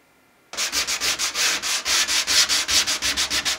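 A myrtle wood instrument body is having its edge sanded by hand, with rapid, regular back-and-forth strokes that rasp close and loud.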